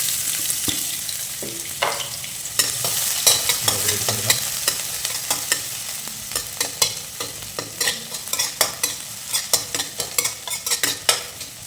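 Chopped onions frying in oil in a pan for lemon rice, with a steady close sizzle and repeated sharp clicks and scrapes of a spoon stirring, growing busier toward the end.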